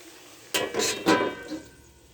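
A lid set onto a pot of crab curry, giving a few close metallic clanks and scrapes in quick succession before fading to quiet.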